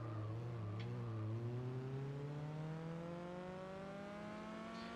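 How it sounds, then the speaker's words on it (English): Car engine in the Gran Turismo 4 video game, a steady engine drone whose pitch climbs smoothly as the car accelerates, with a slight dip early on, heard alone. "it seems to have this weird spot where you're over revving it if you're in first"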